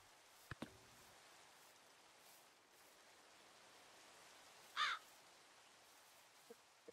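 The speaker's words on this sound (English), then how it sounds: "I hear a seagull." A single harsh seagull call rings out once against a faint steady hiss, with a couple of small clicks earlier, in the video game Mythcraft.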